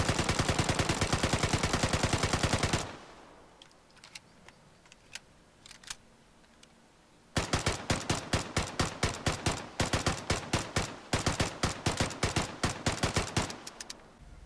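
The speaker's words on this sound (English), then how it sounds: "Here's a comparison of the auto versus single fire accuracy." A Thompson submachine gun in the video game Vigor fires a fast, loud automatic burst, then after a pause a few scattered single shots, followed by long rapid strings of evenly spaced shots, close and sharp with no talk.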